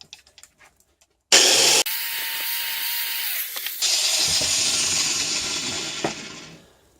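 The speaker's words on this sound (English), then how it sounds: "let's drill the other hole here" A handheld power drill boring a hole in a soldering or welding job setup, with one loud sustained run that changes pitch as it loads and slows, then a second steady run of several seconds, close by with no talk.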